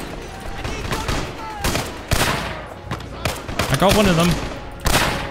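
Rifle shots ring out in a Minecraft World War II shooter game built on Heroes & Generals, with a Springfield rifle among the guns. Sharp bursts and scattered cracks sound at different distances, and someone talks over them.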